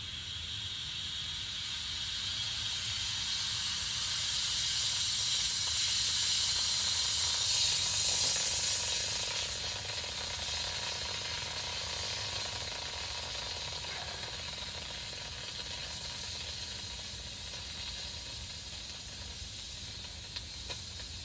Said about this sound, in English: now holding up on the lid, we will pressurize it with the CO2